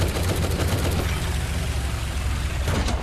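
Rapid, dense gunfire in the Roblox War Tycoon battle game, a continuous loud barrage of automatic shots lasting the whole stretch without pause.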